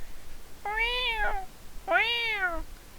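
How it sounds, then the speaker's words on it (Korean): Two drawn-out cat meows, each about a second long, close and clear, separated by a short pause. "오늘따라 고양이가 더 짖어가지고"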